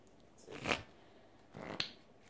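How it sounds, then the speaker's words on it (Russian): Two quick riffle shuffles of a deck of playing cards sound as soft, close, brief fluttering rips about a second apart, each ending in a light snap, with no talking. "И вы равномерно вот так левой и правой пачкой вот так слистываете. И у вас вот так карты друг в друга."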